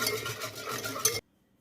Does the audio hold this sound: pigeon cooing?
no